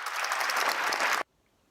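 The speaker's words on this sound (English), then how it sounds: "Just keep clapping." Dense, steady applause from many hands fills the space at close range, then cuts off abruptly into silence after about a second.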